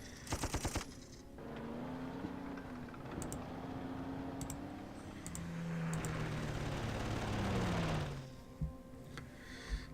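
Tank attack gunfire in the World War II strategy game Panzer Corps: a sharp burst of rapid shots opens, followed by a rumbling engine-like roar and scattered clicks, with a few isolated bangs near the end.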